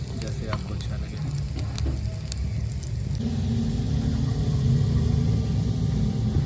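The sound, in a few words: garlic browning in cooking oil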